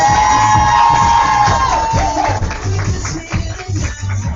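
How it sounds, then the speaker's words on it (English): An audience at an evening motivational gathering cheers, whoops and claps, loud and close, with shouts and voices over the crowd noise. "give her a round of applause"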